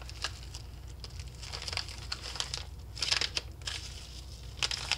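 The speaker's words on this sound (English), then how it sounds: "Next up is this whitish package, and no description at all. They didn't even try. So here we go. Cut this open." Whitish mail package being cut open, close crinkly plastic crunching and scraping with sharp crackles in bursts, moderately loud and without talk.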